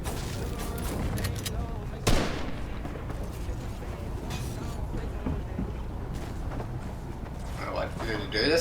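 Video game gunfire: a dense rattle of shots through a battle with one sharp, louder burst partway through, heard under someone talking as he plays.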